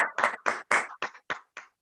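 Seven quick, evenly spaced claps sound close and loud, a short burst of applause for an offer during a national webinar.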